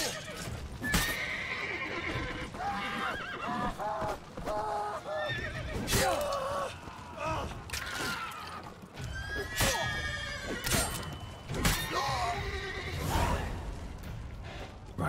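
Horses in The Witcher 3 give repeated loud whinnies and snorts with hoof clip-clops and rustling in between, several calls spread across the span.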